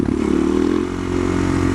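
An SM610 motorcycle rides a slow wheelie in second gear at about 20 mph, its engine holding a steady mid-pitched drone with a slight dip partway through, close and alone.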